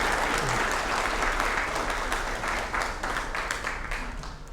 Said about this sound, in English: Let's give them the applause they so well deserve.